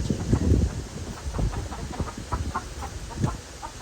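Chickens in a garden make scattered soft clucks and short calls amid brief rustling and bumps, fairly close and fairly quiet.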